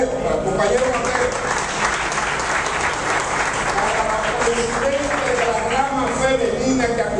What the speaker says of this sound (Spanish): Pedir un fuerte aplauso para Mateo,